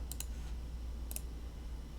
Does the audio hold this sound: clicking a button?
yes